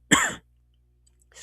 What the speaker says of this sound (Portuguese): Uma leve crise de tosse aqui, mas já passou.